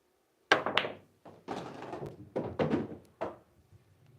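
Pool cue striking a ball in an elevated shot from the rail, followed by a run of hollow thunks and knocks as balls and rail are hit, close and clear, with no voices.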